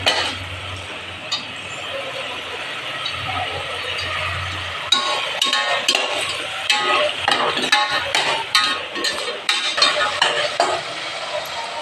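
Ingredients for Sindhi biryani sizzle and fry in a pan, with a spoon scraping and stirring in irregular bursts, clinking against the metal, close and fairly loud.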